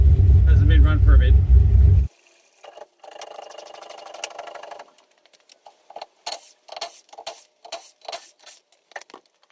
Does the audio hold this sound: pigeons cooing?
no